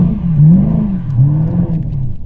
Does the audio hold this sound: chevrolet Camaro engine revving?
yes